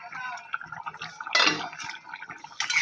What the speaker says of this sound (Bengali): এবার এইভাবে একটু নাড়তে থাকতে হবে, নেড়ে জল দিয়ে ঢাকা দেব